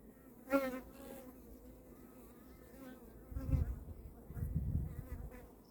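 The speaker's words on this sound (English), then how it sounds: "The bees have calmed down a little bit now, they're getting used to me being here." Honey bees buzzing around a hive during fresh honey extraction, a faint, steady hum with one bee droning close by early on and soft low rustling bumps later, no voices.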